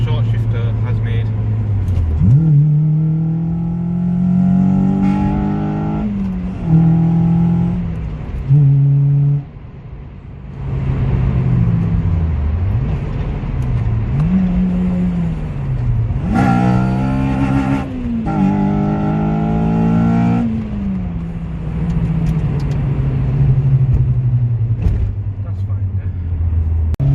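A Honda Civic EP3 Type R fitted with a short shifter revs hard from inside the cabin, its engine note climbing through the gears and dropping with each shift in repeated loud pulls, with voices talking over it.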